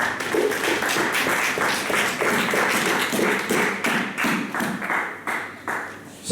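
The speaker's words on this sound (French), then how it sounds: "Acclamons ta foi pour la parole." A church congregation claps together in a steady rhythmic beat, the sharp hand claps repeating evenly and fairly loud, with no voices over them.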